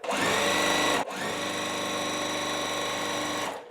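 A home sewing machine runs in one steady, close, continuous burst, stitching quilt block pieces together, with a brief hitch near the start before the motor hums on evenly and stops.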